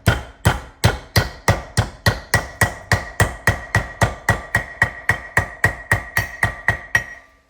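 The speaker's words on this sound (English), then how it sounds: "And then just go around with a hammer" A hammer taps a brake seal into place on a 2006 Mazda/Ranger 2WD front hub. About twenty sharp, evenly spaced metallic strikes come at a steady pace, close and loud, with nothing else heard.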